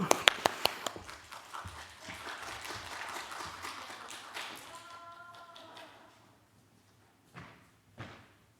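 A church congregation claps to welcome a pastor to the pulpit: dense, lively applause for about four seconds that thins out and fades, followed by quiet and a couple of isolated knocks.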